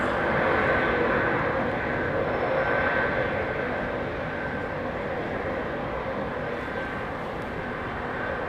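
A Cathay Pacific airliner rolls for takeoff at London Heathrow, its engines giving a loud, steady broadband roar that eases slightly as it moves off, with no talking.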